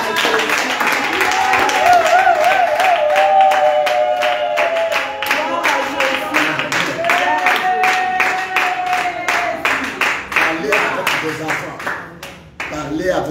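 Congregation at a Tuesday morning prayer service applauding and cheering, a dense, loud wash of clapping and crowd voices that holds for several seconds before thinning out at the end.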